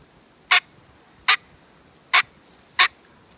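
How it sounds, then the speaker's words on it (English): Aggressive hen cutting cacks made on a turkey mouth call: four sharp, loud, evenly spaced clucks, each one short, standing out alone over quiet background. "You do that by placing the call in your mouth and popping your tongue off the call."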